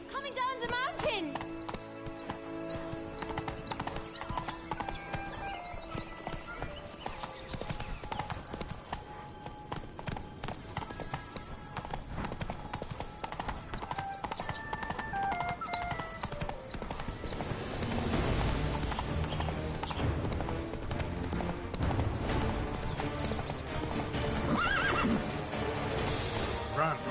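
Hooves of Geralt's horse Roach clip-clop at a gallop in Witcher 3, with whinnies, over steady game music and sound effects while a voice talks throughout.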